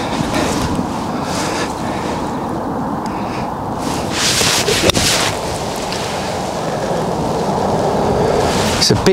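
Steady wind gusting across an open golf course, a broad continuous rush with a few stronger swells, close and buffeting the microphone with no talk.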